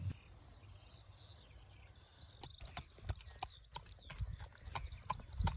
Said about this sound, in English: got back into breaking horses with Rach